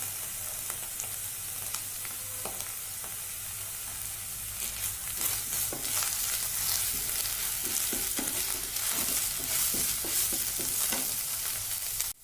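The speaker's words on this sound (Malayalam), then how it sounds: "നല്ല ട്രാൻസ്പെറൻ്റായി വരുന്നത് വരെ ഈ സവാള ഒന്ന് നമുക്ക് വഴട്ടിയെടുക്കണം" Sliced onions sauté with salt in a frying pan under a steady sizzle, with repeated scraping stir strokes that grow busier and denser toward the end; close and fairly loud, no voices.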